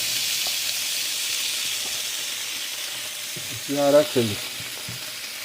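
Hash brown potatoes sizzle steadily as they heat in a pan, a constant close frying hiss throughout, with a few clinks and a brief spoken phrase near the end.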